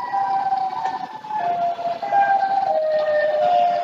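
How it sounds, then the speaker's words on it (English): Mechanical sirens in a Roblox Siren Head game wail continuously with several overlapping, slowly wavering tones, loud and steady throughout, with no voices. "just by hearing these sirens, I'm creeped out"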